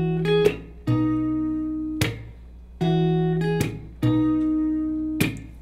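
Acoustic guitar plays the intro of a song: plucked chords ringing out in repeated phrases with clear attacks, close and alone with no voices.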